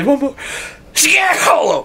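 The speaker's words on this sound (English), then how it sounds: "I'm gonna sneeze." One loud, close sneeze bursts out right after a person speaks briefly, ending in a breathy trailing sound.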